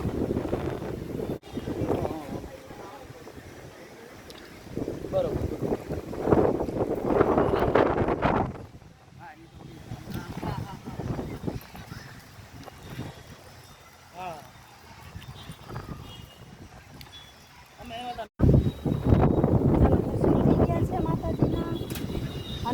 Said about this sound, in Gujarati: અને હવે બહુ જોરદાર પવન આવે છે